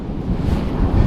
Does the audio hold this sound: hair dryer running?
no